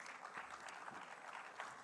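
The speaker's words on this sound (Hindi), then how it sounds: "जबरदस्त वाली तालियां हो जाए प्लीज।" Applause from an audience at a literary event stage in Surat, a dense wash of clapping heard faintly from a distance, steady throughout.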